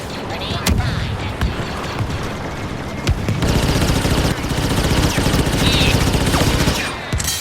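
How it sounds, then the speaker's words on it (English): Explosions and gunfire from a Star Wars Battlefront II Supremacy battle on Felucia, with sharp bursts and booms over continuous loud combat noise, including a heavier blast partway through. "Grenade time."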